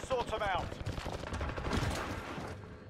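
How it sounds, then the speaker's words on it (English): Sniper gunfire during a Halo Infinite multiplayer match: a burst of sharp, loud shots close together, mixed with other game sounds and voices. "we're getting sniped there from the left"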